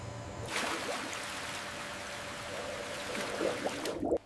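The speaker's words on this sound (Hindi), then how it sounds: "ऊपर का पानी बहा दिया जाता है।" Water being drained off the top of a settling tank of cassava starch at a sago factory, a steady rushing, trickling flow that carries on throughout and ends abruptly.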